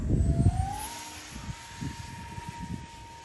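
A Batwing RC model airplane flying, with a thin rising motor whine that settles into a steady high tone, heard over rumbling wind buffets near the microphone.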